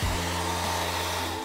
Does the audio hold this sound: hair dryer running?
yes